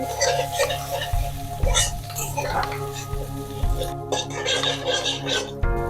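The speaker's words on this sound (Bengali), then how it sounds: "এবার এর মধ্যে আমি দিয়ে দিচ্ছি রসুন আর আদা থেতো করা এটাকে অল্প করে ভেজে নিচ্ছি" Crushed garlic and ginger frying in hot oil for a Bengali chilli katla dish, giving a steady close sizzle with occasional stirring scrapes, with a persistent low hum beneath and short bursts of louder crackle.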